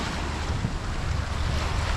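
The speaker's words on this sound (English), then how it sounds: "We've got the ocean here and the rocks." Ocean surf washing against rocks on the coast of Mykonos, Greece, a steady broadband rush with low rumbling swells and wind buffeting the microphone, continuous and fairly loud with no voices.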